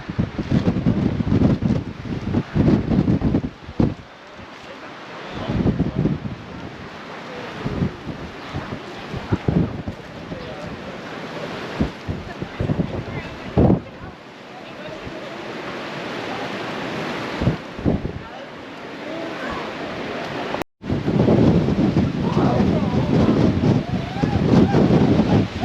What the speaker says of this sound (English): I guess you could say it's a little windy up here